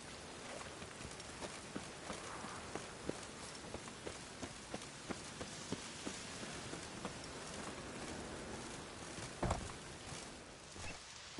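Steady rain falls in a Witcher 3 game scene, a constant broadband hiss with scattered sharp droplet ticks and a louder splash or thud near the end, no talking.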